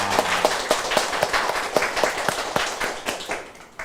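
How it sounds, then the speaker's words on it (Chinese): A congregation at a church worship service claps hands together in a loose, steady rhythm of repeated sharp claps that continue for several seconds, fairly loud and close, with no voices over them. "好，拍拍手。"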